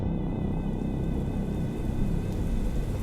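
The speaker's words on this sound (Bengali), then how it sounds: "জানালার বাইরে তখনও বৃষ্টি পড়ছে টুপটাপ শব্দে।" Steady rain falls outside a window as a storytelling sound effect, a constant close hiss and patter with no breaks, thunder or voices.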